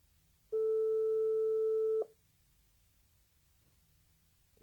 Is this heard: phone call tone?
yes